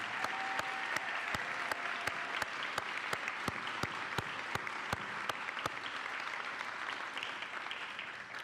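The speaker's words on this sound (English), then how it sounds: "Y'all join me in applause for them." A graduation ceremony audience at an 8th grade event claps steadily, a dense field of applause with a few louder nearby claps heard throughout, continuing evenly and fading slightly at the end.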